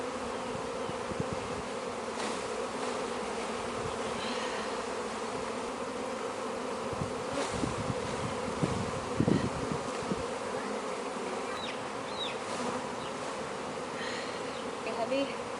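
Honey bees buzz in a dense, steady hum as frames are emptied onto a cloth during a Taranov split of the hive, with a few faint handling knocks over the continuous drone.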